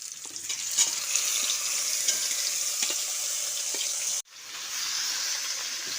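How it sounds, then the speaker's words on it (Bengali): Okra frying on high heat in a pan while being stirred: a steady, close sizzle with scraping and stirring, briefly cut off once before it resumes. "এবার হাই হিটে ভালো করে নেড়ে চেড়ে কষিয়ে নিচ্ছি"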